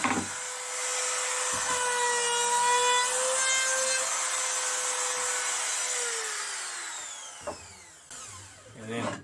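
A handheld router cuts along the edge of a wooden serving board, a loud sustained whine that holds steady for several seconds before winding down, with brief bumps and knocks at the start and end.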